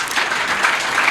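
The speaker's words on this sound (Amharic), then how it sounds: "አጨብጭቡላት ለሷም።" Audience clapping at a live church podcast: brief, dense, steady applause from a group, with no voices over it.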